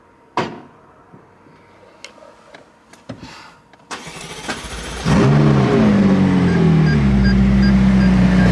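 A McLaren 600LT Spider and a McLaren 675LT Spider start at the same moment. Scattered clicks and clunks come first, then the engines crank and fire into a loud, sustained, close roar that settles into a deep idle.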